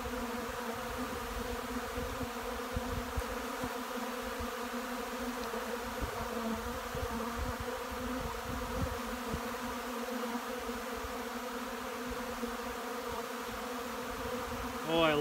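Honey bees swarm an open dry feeder outdoors in spring, a dense, steady buzzing drone that fills the whole stretch without pause, close and continuous.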